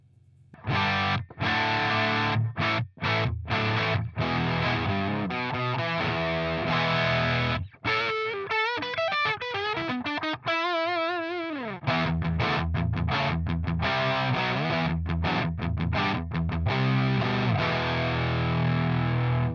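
Electric guitar through an overdrive pedal with its hot switch engaged plays loud, gritty, heavily overdriven chords and a few quick single-note runs, with no voices.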